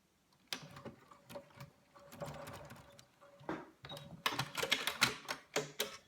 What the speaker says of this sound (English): Let's sew it.